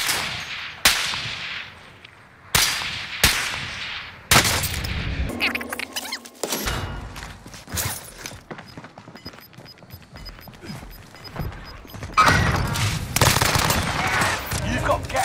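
Video game gunfire cracks out in sharp, separate bursts and single shots, some close and loud, with quieter scuffling and movement in the pauses between volleys.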